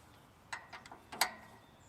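Cheap Allen key ratcheting and clicking against a bolt on the guide of a Woodland Mills HM130MAX sawmill, a few sharp metallic ticks in quick succession, close and fairly quiet with no talking.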